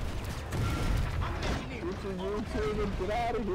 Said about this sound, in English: Gunshot, run.